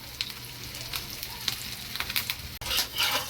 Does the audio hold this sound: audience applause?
no